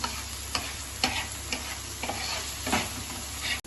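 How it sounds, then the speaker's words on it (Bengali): Spice paste for doi rui sautéing in a pan with salt, a steady close sizzle broken by regular scraping strokes of a spoon, roughly twice a second, with no voices. "এবার এটা শুধু কষাতে থাকবো।"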